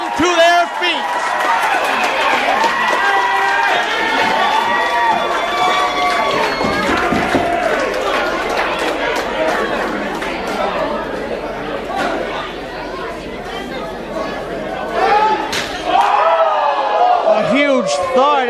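Wrestling crowd at a live independent show rising to its feet after a suicide dive, loud continuous cheering, whoops and chatter that fill the room, with a brief dip in the middle before surging again.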